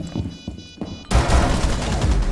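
Gunfire in Rainbow Six Siege, a sudden loud burst of rapid shots that starts about a second in and continues as a dense, sustained roar after a few quieter thumps.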